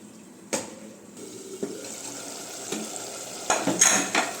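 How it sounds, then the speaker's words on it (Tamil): Basmati rice being washed in water for chicken biryani: splashing and swishing in a vessel with a few sharp knocks and a louder burst of water near the end, close and without speech. "இப்போ நம்ம அரிசியை நல்லா வாஷ் பண்ணிவிட்டு"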